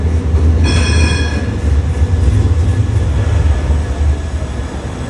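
A train rolls past on the rails close by, a loud continuous rumble of wheels and carriages, with a brief high metallic squeal from the wheels early on.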